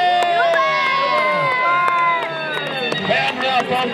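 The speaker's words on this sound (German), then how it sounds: "Ein Jubel ertöne. Jubel!" A large outdoor crowd cheers and shouts loudly at a staged knight combat show at the Riegersburg opening, with excited voices overlapping and children calling out in a continuous roar.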